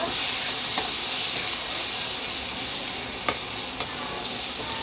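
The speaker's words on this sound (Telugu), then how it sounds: "చూద్దాము టమాటో ఎలా వేగిందో." Tomato fries in a pan with a steady, close sizzle and hiss, while a utensil scrapes and stirs it in a few sharp clicks.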